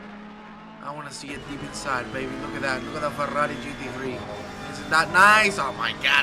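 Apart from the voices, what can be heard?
Ferrari GT3 race car in a racing video game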